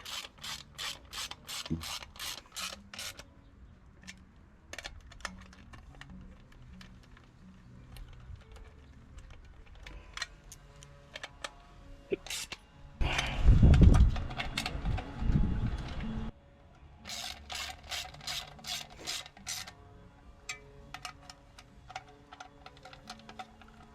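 A hand ratchet runs bolts down while a 2 liter gas tank is fitted, giving rapid bursts of close, sharp clicking with a louder clattering stretch in the middle.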